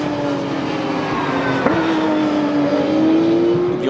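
A Porsche race car at the Paul Ricard circuit during a ROSCAR race, its engine a loud sustained drone that shifts pitch midway as it passes, with no commentary over it.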